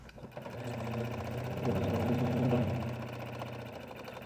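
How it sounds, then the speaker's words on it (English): A sewing machine runs steadily for about four seconds, stitching pockets onto bag lining pieces, a close, even mechanical whir that swells slightly in the middle. "Let's go ahead and sew those on now."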